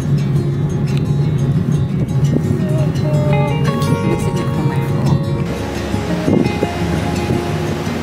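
Waves wash steadily onto a beach, a continuous broadband roar mixed with gusting wind noise on the microphone and faint background tones, holding at an even level throughout.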